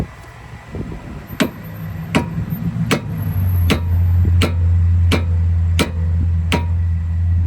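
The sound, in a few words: sledgehammer tapping back of screwdriver to free rusted screw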